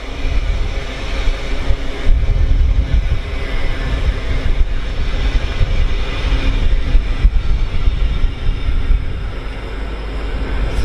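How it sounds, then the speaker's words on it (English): A Class 803 Lumo electric train on the East Coast Main Line rushes past nearby as a loud, steady broadband roar of wheels and air, with slight surges and wind buffeting on the microphone and no voices. "803001 working the Lumo service from Edinburgh Waverley to London King's Cross"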